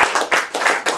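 An audience claps after a recited love poem: a short burst of several uneven, fairly loud hand claps.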